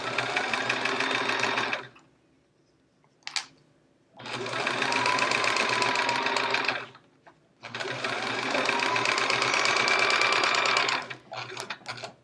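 A sewing machine pieces a chevron quilt in three long, steady runs, each lasting a few seconds, separated by quiet gaps with a brief clack in between. The whirring is close and loud.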